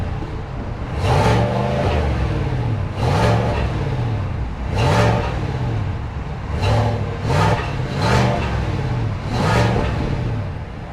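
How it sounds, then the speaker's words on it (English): Silverado or Sierra truck with a GM 5.3-liter V8 rumbles at a deep idle, broken by about six sharp revs that swell and fall back, loud and close with no talking. "There's nothing like that deep V8 rumble when you fire it up"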